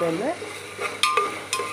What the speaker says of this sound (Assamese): তেল খুব ভালকৈ গৰম কৰি পিঁয়াজ ভাজিছোঁ